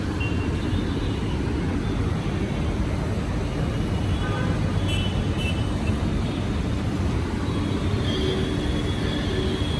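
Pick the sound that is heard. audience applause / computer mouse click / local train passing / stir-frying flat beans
local train passing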